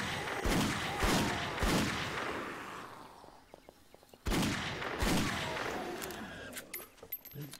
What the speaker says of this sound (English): I love that my 44 Magnum is now my backup gun.